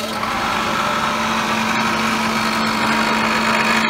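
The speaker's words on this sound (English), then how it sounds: "Now I'm going to start the spindle here in the forward direction" A milling machine spindle runs in the forward direction with a steady mechanical whir and a firm, constant hum, loud and close, holding an even pitch throughout with no voices.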